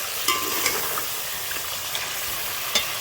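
Chicken korma frying in oil sizzles continuously with a bright hiss, punctuated by occasional spoon stirs and small pops close to the pan.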